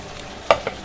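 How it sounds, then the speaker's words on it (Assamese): Broiler chicken meat being stirred in a pan with black pepper powder added, giving two short scraping stir strokes over a faint background hiss, with no talking. "জালুকৰ গুড়াকণ দি পেলাই আমি মাংসকণ ধুনীয়াকৈ লৰাই দিছোঁ।"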